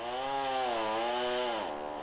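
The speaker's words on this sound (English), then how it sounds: "she hollows out the center of the bowl with her chainsaw" Chainsaw cutting a groove around the edge of a big wooden bowl: a loud, steady engine whine close by that wavers in pitch as it loads and unloads in the wood, no talk.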